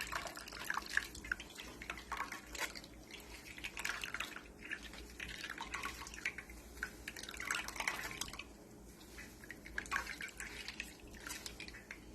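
Homemade almond milk drips and trickles softly as the pulp is squeezed by hand, a quiet, uneven patter of drops with brief splashes and no talking.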